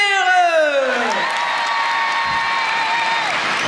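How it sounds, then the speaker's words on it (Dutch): A TV studio audience at a Sinterklaas children's show cheers and shouts loudly, children's voices whooping over a steady wash of crowd noise and applause that holds throughout. "Hey jongens, ik wil een geweldig 1, 2, 3 applaus horen. Klappen, stampen, schreeuwen voor de bamboeberen!"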